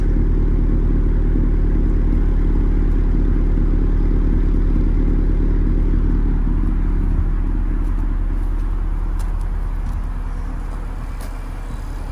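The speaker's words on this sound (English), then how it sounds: "Everything sounds good in the exhaust." A 10th-generation Honda Civic Si's turbocharged L15B7 engine idles steadily through the exhaust, a low, even rumble with faint clatter, easing slightly quieter near the end.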